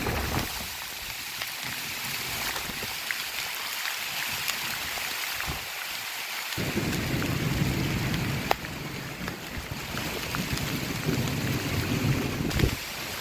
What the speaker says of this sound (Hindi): कह सकते हैं तूफ़ानी बारिश है।